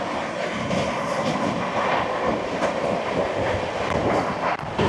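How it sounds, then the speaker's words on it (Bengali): The New Delhi to Varanasi Vande Bharat Express, train number 22436, roars past with a dense, steady rush of wheels and rail noise and faint clickety-clack, loud and close throughout, with no voices. "চলে আসছে ট্রেন নাম্বার 22-436, নতুন দিল্লি থেকে বারাণসী বন্দে ভারত এক্সপ্রেস।"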